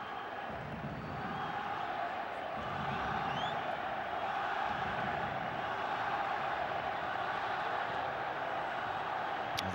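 A big football crowd supporting Guatemala in a 2026 match against Czechia keeps up a steady, dense roar of cheering and chanting across the stadium, broad and unbroken from start to finish.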